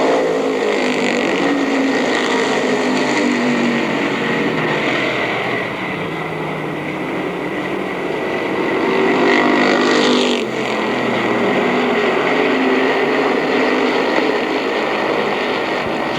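Stock race cars roar down the front straightaway at the 1984 Mt Clemens race, a sustained, fairly distant engine drone that swells and fades as cars pass, with no voices.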